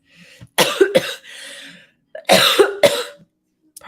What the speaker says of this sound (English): Sorry to be coughing in the mic like that